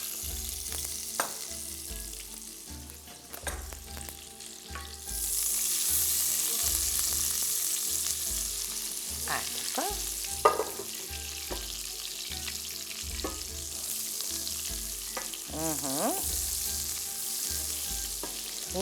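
Peppers fry in oil with a spoonful of butter in a pan, a steady sizzle that swells louder partway through, with occasional clinks and scrapes under faint background music.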